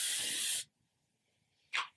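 A makeup face mist bottle gives a short, soft spray burst, then a pause, then a second brief puff, close and fairly quiet.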